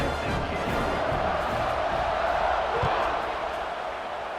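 A football stadium crowd roars steadily before a kickoff in a Cincinnati versus Memphis college game, a dense, sustained wash of cheering with no breaks.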